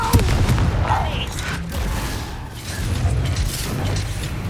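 Spell blasts from Confringo and Bombarda go off in Hogwarts Legacy as a string of booming impacts and crackling bursts over busy game noise, with a voice calling out now and then.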